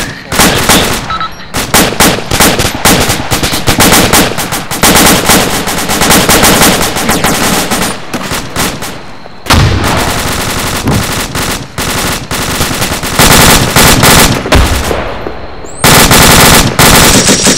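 Sustained machine gun fire aimed at a compound in combat, loud and close, long continuous bursts with brief pauses around 8 and 9.5 seconds and near the end.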